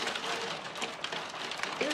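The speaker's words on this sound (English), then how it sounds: "Look at the hail!" Heavy hail falling under bright sun, a dense, steady patter and rattle of stones hitting surfaces all around, close and continuous throughout.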